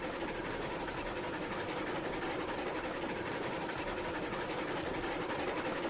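Locomotive pulling a string of rolling stock in the railroad game RailRoads Online, a steady, broad rumble of engine and rolling wheels that runs evenly throughout with no talking over it.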